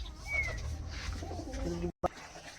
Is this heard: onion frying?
no